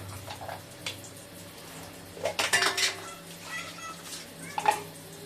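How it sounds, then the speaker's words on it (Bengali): Baby feeding bottles are washed at a sink, with close clatter of plastic and utensils, bursts of splashing water, and a brief cat-like cry near the end. "এখন বোতলগুলো সব ধুয়ে নেবো।"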